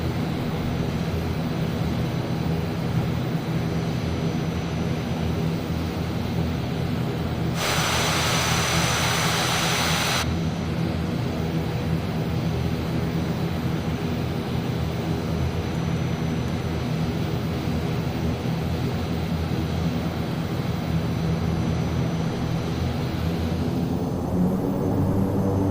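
An ATR-72-600 turboprop in Microsoft Flight Simulator hums and drones steadily while taxiing, a continuous engine and propeller roar with a brief burst of brighter hiss midway.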